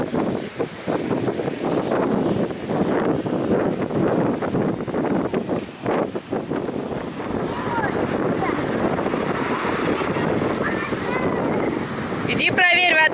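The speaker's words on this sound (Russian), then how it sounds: "Сегодня сильный ветер, сильные волны." Strong wind and heavy ocean waves on a Florida beach roar steadily throughout, with gusts buffeting the microphone and people talking over the surf.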